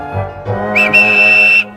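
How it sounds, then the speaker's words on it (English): A railway guard blows his whistle beside a train: a brief rising tone, then one loud, steady, shrill blast held for about a second. "The guard blew his whistle"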